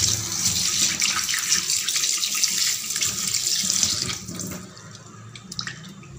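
A kitchen tap runs steadily while an animal brain is rinsed under it for frying. Water gushes loudly and close into the sink, then tapers off near the end.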